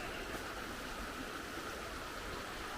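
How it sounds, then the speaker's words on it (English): A creek flows at a hiking trail crossing along the Chattooga River Trail, giving a steady, even rush of water that stays constant throughout, heard alone with no talking. "creek crossing"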